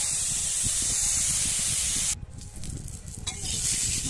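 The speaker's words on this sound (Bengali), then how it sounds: "আলুটাকে আমি একটু ভেজে নেব কড়াইতে।" Potatoes frying in a karai wok with salt, giving a steady, close sizzle and hiss that briefly changes and dips midway as they are stirred, then carries on.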